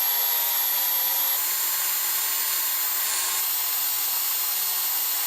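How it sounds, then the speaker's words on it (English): A cutoff wheel grinds through the welds holding steel plates on an old Yates American B244 transmission frame, a loud, sustained high-pitched whine with hissing abrasion that stops abruptly at the end. "I decided to try cutting the welds with a cutoff wheel"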